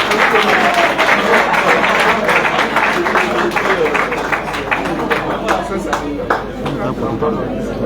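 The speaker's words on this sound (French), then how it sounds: "Ça s'applaudit, chers amis." Audience applause at a ceremony on Malian diplomacy, a full, continuous round of clapping from a sizeable crowd that tapers slightly toward the end, with murmured voices blended in.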